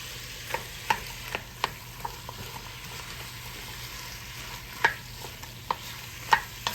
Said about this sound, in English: Going to mix the tomato paste up in here.